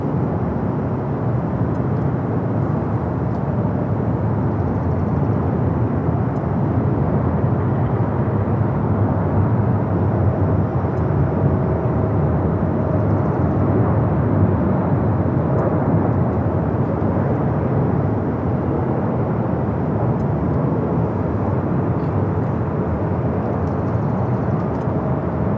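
A Southwest Boeing 737-800 arriving at LAX from Chicago Midway gives a steady, moderately distant engine rumble that holds evenly for a long stretch, with no voices.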